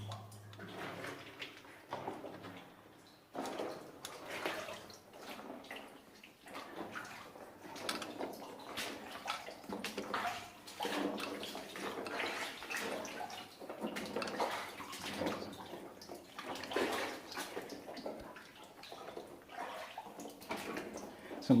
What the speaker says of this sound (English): All the water dripping is pretty surreal.